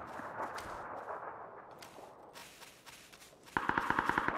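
Gunfire in a fast-paced shooter video game: a rapid burst of evenly spaced sharp shots near the end, following a stretch of quieter game noise and footsteps, with no voices.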